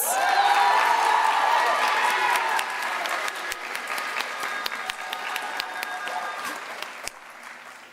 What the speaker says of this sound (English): Please give a round of applause for Miss Justice Hearns.